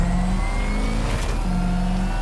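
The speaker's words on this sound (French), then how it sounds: "Le bruit du frein." Batmobile from the Batman Arkham Knight video game braking, a loud continuous engine whir and hum with a brief rushing swell in the middle.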